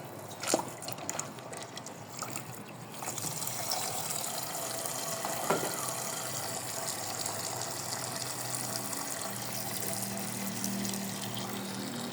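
Water being poured runs continuously with a steady gushing hiss, fairly faint, over a low background rumble.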